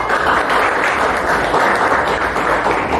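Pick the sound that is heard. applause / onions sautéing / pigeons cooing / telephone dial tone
applause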